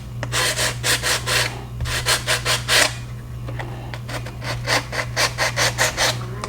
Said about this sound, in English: By wet sanding.